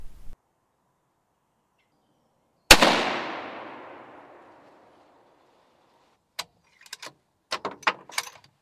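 A single loud rifle shot rings out while stalking muntjac deer, and its echo fades slowly over a few seconds. Quiet follows, then scattered faint clicks and small rustling sounds.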